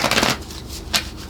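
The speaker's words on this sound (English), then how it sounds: "I'll just pull one more card here" Tarot card pulled from a deck, a short close riffling shuffle of cards followed by a brief second flick.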